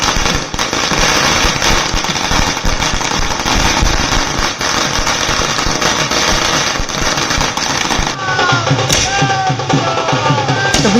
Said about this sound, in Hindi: तो ढोल नगाड़े के साथ पटाखे भी फोड़े जा रहे हैं।